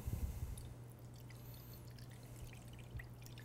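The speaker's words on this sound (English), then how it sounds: "take some water and let's put it in this pan" Water poured into a baking pan for a crème brûlée water bath, a soft continuous trickling splash, faint and close, with no voices.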